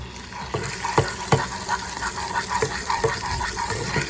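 Soft stirring of a bubbling blueberry syrup in a pan, with gentle scraping taps and a steady sizzling, simmering hiss underneath.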